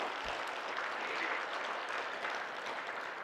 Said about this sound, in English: All those who are happy to be here will clap in the